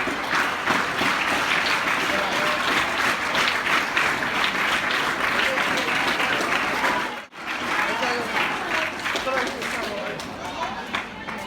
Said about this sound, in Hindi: जोरदार ताली देते हैं।